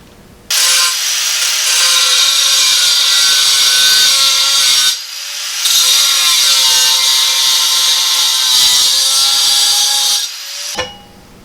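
A Lennox diamond-tip 4.5-inch cutoff wheel on an angle grinder cuts metal roof panels for a Model A hot rod shop truck, a loud sustained high-pitched grinding whine in two long passes with a brief pause between, no talking.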